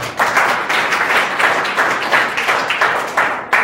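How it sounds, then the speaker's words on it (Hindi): An audience claps in a lecture hall, close and loud, in dense applause that swells in regular pulses for several seconds with no one speaking. "ताली हो जाता है"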